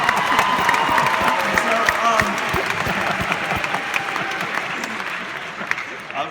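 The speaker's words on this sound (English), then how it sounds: "That was a weird thing to cheer for." Large audience applauding and cheering at a talk, a dense, steady wash of clapping with scattered whoops that stays loud throughout and eases slightly toward the end.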